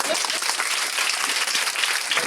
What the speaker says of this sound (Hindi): गगन कुमार ताली बजा दो